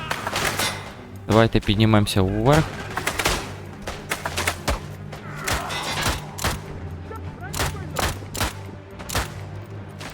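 Rapid bursts of gunfire crackle in quick volleys in the game Isonzo, some near and loud, others scattered, while someone speaks briefly over the shooting.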